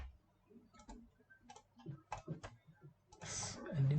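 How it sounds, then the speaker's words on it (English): Typing on a computer keyboard while working in Rhino 3D, a sparse run of distinct key clicks at an uneven pace, close and quiet, ending in a brief burst of louder noise. "Now I'm typing 1"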